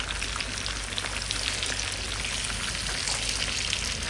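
Fish frying in a pan for a crispy fish fry, heard as a steady, dense sizzle and crackle of hot oil that continues without a break.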